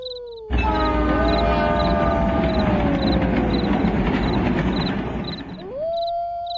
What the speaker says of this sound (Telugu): చిన్న ఊర్లో ఉన్న ఒక నిర్జనమైన రైలు స్టేషన్లో ఒక రైలు నెమ్మదిగా ప్రవేశించింది